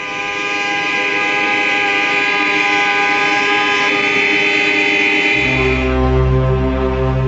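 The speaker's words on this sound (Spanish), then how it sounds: "Después protestan a bocinazos." Sustained, loud blaring of many car horns sounding together in protest on a West Berlin street, steady chords of overlapping tones that swell and shift near the end.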